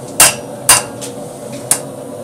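A 2.5 pound rounding hammer strikes 1/2 inch round bar during a first blacksmithing project, giving three sharp metallic blows at uneven intervals plus one fainter tap, close and ringing.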